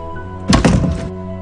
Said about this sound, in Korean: 문이 쾅 하고 닫힌 소리가 울려 퍼졌다.